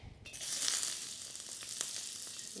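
Onions fry in oil in a pan with a bright, steady sizzle that starts abruptly and holds at an even level, close by.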